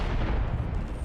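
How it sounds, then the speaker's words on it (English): A frag grenade explodes in a multiplayer shooter, a loud, dense, booming blast that fills the whole brief moment with heavy low rumble. "Throwing frag."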